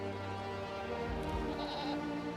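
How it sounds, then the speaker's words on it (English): Goat straying from its herd near the Dead Sea shore, a single drawn-out bleat rising over a steady background drone. "one of their goats strayed from the herd"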